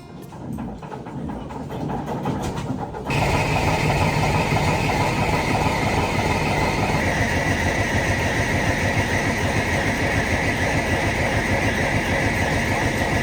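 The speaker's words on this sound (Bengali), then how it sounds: "বেশ কিছুক্ষণ সব কিছু চেক করার পর ইঞ্জিন চালু করা হলো" A large diesel locomotive engine kicks in abruptly after a few seconds of quieter rumble, then settles into a loud, steady throbbing idle that continues to the end.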